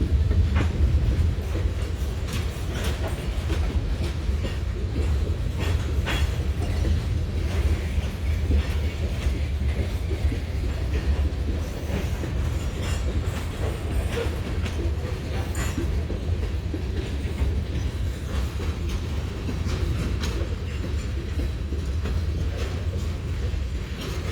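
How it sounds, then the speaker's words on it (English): A Hershey chocolate factory freight train with a Conrail caboose rolls steadily past, its low rumble and rhythmic clickety-clack of wheels over rail joints holding constant and fairly loud throughout. "Caboose, so Conrail caboose here."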